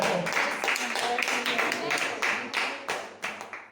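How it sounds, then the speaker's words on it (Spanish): A small gathering at a Bible study claps briefly in a short, uneven burst of individual hand claps that fades out quickly. "Un aplauso para Gabriel, para el Señor."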